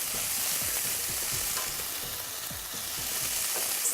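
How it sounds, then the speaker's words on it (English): Ginger paste frying in a pan while being stirred, a steady broadband sizzle with repeated scraping strokes of the spoon at a regular rhythm, close and fairly loud, with no voices. "Stir it together"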